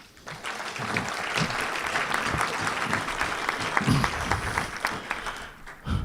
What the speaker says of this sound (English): Your applause is good, but don't take too long